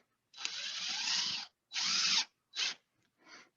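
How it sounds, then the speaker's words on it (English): A drill drives a Torx screw into wood in four bursts, a long whir followed by shorter spins that tail off as it seats, close and fairly quiet with no talk. "I'm going to drive this first one an inch in from the end."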